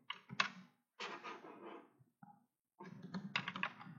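Code being typed on a computer keyboard, quick clusters of close, crisp key clicks in short bursts separated by brief pauses, with no talking.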